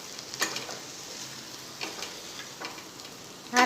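Poha (flattened rice) frying in a pan is stirred with a few short, separate scraping and rustling strokes over a soft background sizzle, with a louder burst of stirring at the very end.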